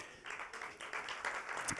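Brief burst of audience clapping at a live podcast talk, fairly faint and scattered, lasting under two seconds.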